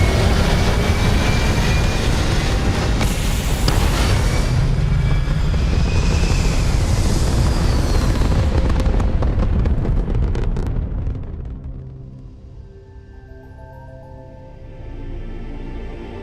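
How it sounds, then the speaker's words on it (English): A spaceship lifts off in the game Starfield: a loud sustained roaring rumble with rising whine builds for about ten seconds, then drops away to a quieter hum with faint tones. "Pressure holding. Takeoff resumed."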